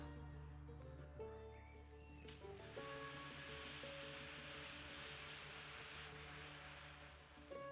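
An aerosol pepper spray canister, a compact defence spray, sprays in a loud, steady hiss that starts abruptly partway through and holds near and continuous to the end, with no one talking.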